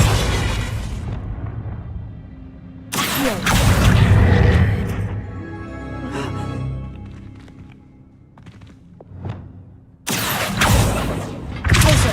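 Confringo fire spell explosions in the Hogwarts Legacy video game: a loud booming blast, a second heavy burst around the third second with a rumbling tail, then another explosion near the end, with no voice over them.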